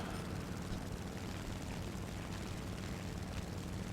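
An aircraft engine in the combat flight game War Thunder drones steadily and loudly with a broad, rumbling roar that stays constant throughout, with no one talking.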